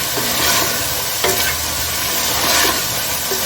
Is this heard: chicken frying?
yes